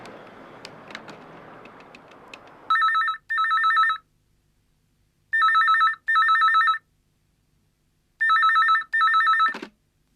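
A telephone rings in a home scene from a Tamil TV serial, sounding three pairs of loud, clear electronic double rings separated by silent gaps, after a brief stretch of background noise.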